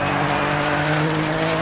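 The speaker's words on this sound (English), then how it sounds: "hit the gas and get up to speed" A rally car engine in the video game DiRT 4 roars steadily at high revs, loud and close, with a sustained droning tone and no speech.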